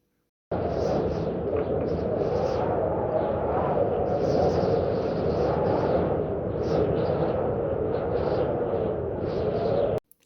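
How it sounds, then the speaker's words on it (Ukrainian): Wind rushes steadily through trees, a deep continuous roar swelling and easing in gusts, with no voices. "Як шумить вітер?"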